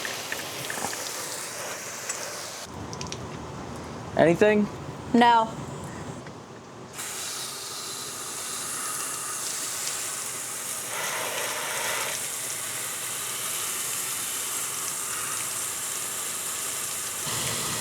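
Garden hose spraying water over an RV slide topper to mimic rain, a steady close hiss of spray that cuts out midway while people talk briefly, then resumes for the rest.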